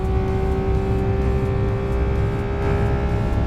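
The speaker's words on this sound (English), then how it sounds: "listen to the noise of this motor" A 2018 Porsche 911 GT3 Touring's engine drones at high speed, a steady, loud, continuous roar under sustained acceleration with no breaks or talk.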